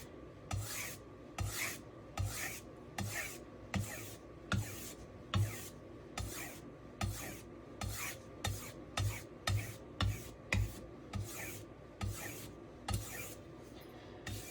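A knife blade is stropped back and forth across paper laid on a Norton Crystolon double-sided oilstone, giving steady rhythmic rasping strokes, about two per second, close and clear with no talking.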